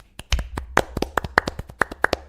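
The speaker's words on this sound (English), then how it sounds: "the whole room, or at least 2/3 of it, applaud for you, sir" A room of people applauding a guest, sounding as a thin, sparse clapping of only a few hands, sharp and distinct claps in an irregular rhythm, close and fairly loud.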